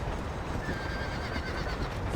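A horse in the Red Dead Redemption video game whinnies with a high, wavering neigh over a dense wash of galloping hoof clatter and background noise, fairly faint and short.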